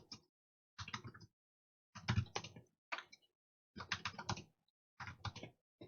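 Bursts of close, quiet typing on a computer keyboard, arriving in five or six short clusters of rapid key clicks separated by brief pauses, with no talking.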